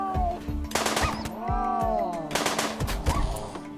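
Rapid gunfire in the colony game RimWorld, a quick cluster of sharp cracking shots in bursts over a steady hum and tonal game sounds, close and clear with no talk.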